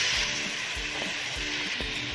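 Tomatoes hit a hot pan already holding black pepper and lemon slices for a vegetable pasta, giving a steady broadband sizzle with a few soft stirring knocks, close and alone.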